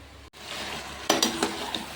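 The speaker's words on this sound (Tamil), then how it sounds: "கொஞ்சம் கொஞ்சமாக காய்கறி சேர்த்து நம்ம எல்லாத்தையும் வதக்குறோம்" Vegetables sautéing in a pan for kurma, a brief cut in the sound followed by a rising sizzle, then several sharp scrapes and clinks of a utensil stirring against the pan.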